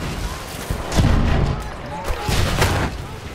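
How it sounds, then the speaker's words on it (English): Explosions from high-explosive mortar rounds landing in a war video game, a few heavy booming thuds around a second apart amid dense battle noise and gunfire, with a voice speaking over them. "Some kind of HE mortar hitting."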